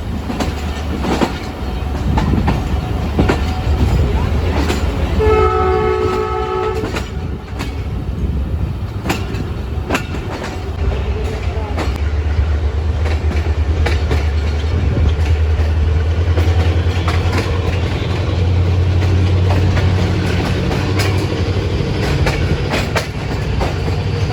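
Awam Express passenger train in Pakistan accelerating out toward Malir, a loud, continuous rumble from on board with rhythmic clickety-clack of wheels over rail joints, a brief whistle-like tone partway through, no talking.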